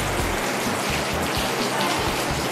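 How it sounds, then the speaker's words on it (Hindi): Heavy rain pours down steadily outdoors, a dense, even hiss of countless drops striking surfaces, continuous and close with no pauses. "खूब तेज़ बारिश हो रही है।"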